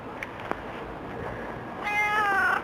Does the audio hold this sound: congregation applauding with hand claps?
no